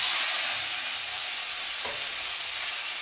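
Taro greens dropped into hot oil with fried cumin and chili sizzle in a steady, loud broadband hiss, with one brief soft stir or scrape midway and no talking.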